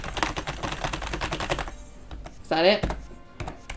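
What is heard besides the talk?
pressing computer keyboard buttons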